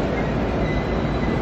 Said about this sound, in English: We're going to get a metro train.